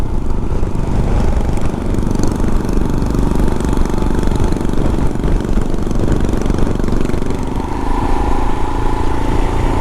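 Loud, steady rumble of a Royal Enfield Himalayan motorcycle engine running close by, a constant mid-pitched drone with slight variations.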